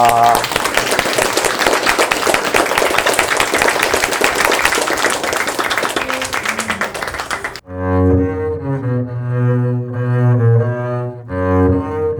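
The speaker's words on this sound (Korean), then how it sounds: "우리 하나님께 영광의 박수 돌려드리겠습니다." Loud sustained applause from a church congregation fills the space, then gives way to singing voices with instruments in a reverberant hall.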